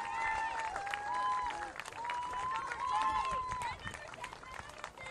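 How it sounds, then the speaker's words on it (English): A crowd at a school football senior recognition gives the seniors and their parents a round of applause, clapping and cheering steadily throughout, with an announcer's amplified voice ringing over it. "Let's give them another big round of applause"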